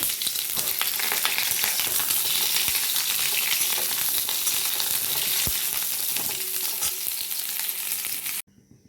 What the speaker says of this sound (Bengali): কেটে রাখা পটলগুলোকে এবার আমি কড়ার মধ্যে দিয়ে ভেজে নেব।